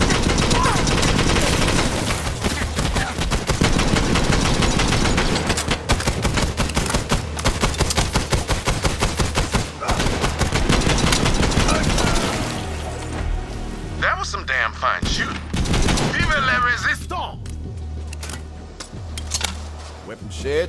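Rapid gunfire from a first-person shooter video game, Borderlands 3, bursts crowding together over a loud busy game mix, thinning toward the end as brief speech comes through.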